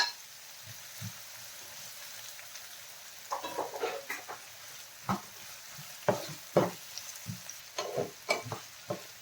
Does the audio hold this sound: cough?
no